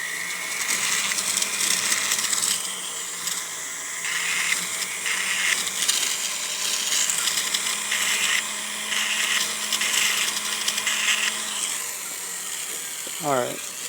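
A rotary tool spins an abrasive stone against the inside of a ring, giving a steady high whine of grinding that runs nearly throughout, rising in short bursts with a brief pitch sweep near the end.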